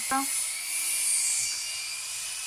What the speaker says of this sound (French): monsieur est en train de couper la scie circulaire